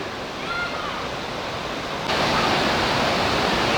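Rushing river water and rapids give a steady broadband roar that grows louder partway through, with no talk.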